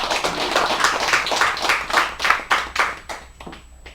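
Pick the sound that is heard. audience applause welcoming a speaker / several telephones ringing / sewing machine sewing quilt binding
audience applause welcoming a speaker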